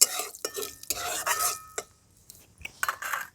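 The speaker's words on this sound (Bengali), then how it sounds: "ফোড়নটা একটু ভাজা ভাজা করে নিয়েছি।" Black cumin and dried chilli tempering fries in oil while a utensil stirs and scrapes the pan, giving close, uneven bursts of sizzle and metallic scraping with brief quiet pauses.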